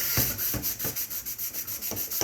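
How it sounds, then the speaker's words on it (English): Abrasive scrubbing of a stove top with Barkeepers Friend cleanser, steady back-and-forth strokes about every half second, close and fairly loud with no talking. "Go ahead and just scrub this with the Barkeepers."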